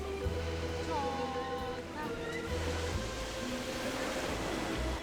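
Ocean waves wash steadily onto a sunny beach in Turkey, a broad continuous surf rush close by, with people chatting over it.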